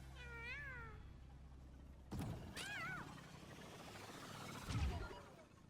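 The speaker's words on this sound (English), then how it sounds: "I love the jetpack cat" The jetpack cat in the Overwatch map Esperanza gives several rising and falling meows over a steady low mechanical hum, with a thump and a rustle between calls.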